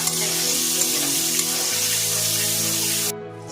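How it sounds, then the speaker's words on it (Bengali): Mango pieces frying in oil for a sour mango dal give a loud, continuous close sizzle that stops suddenly just before the end. "আমটা আমি সুন্দর করে ভেজে নিয়েছি"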